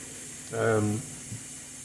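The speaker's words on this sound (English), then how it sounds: "diffuse the steam so it doesn't steam clean the undersides of my cupboards" Steam venting from a Ninja Foodi pressure cooker, a brief breathy hiss that swells and fades over about half a second, followed by a faint low thump, close by in a kitchen with no talk.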